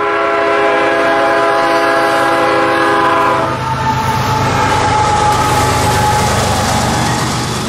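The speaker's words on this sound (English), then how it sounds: "Train U72805 is coming northbound on track 1" A northbound CSX freight train passes close by on a defect detector-equipped main line, its loud sustained horn chord sounding for about three seconds before giving way to a steady roar and rhythmic clatter of wheels over rail joints.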